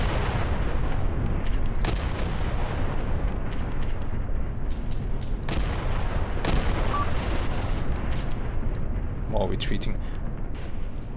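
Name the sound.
artillery strike and shells in video game Graviteam Tactics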